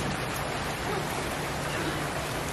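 Steady rain falls outdoors during a thunderstorm, a dense even hiss at moderate level throughout with no distinct drops or voices standing out.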